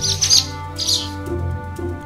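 Bright chirps over a soft musical bed in an animated read-aloud of Brown Bear, Brown Bear, What Do You See?, two short bursts of bird twitter near the start and a fainter one later.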